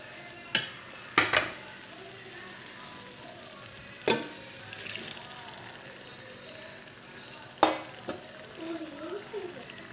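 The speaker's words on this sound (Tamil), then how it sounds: "இப்போது நம்ம முதல்ல வேக வச்சுருந்த மட்டனை இதில் நான் போட போகிறேன்." Boiled mutton tipped into frying potatoes in a pan, a few sharp clattering spoon and pan knocks over a low steady sizzle, with a quiet voice talking at times.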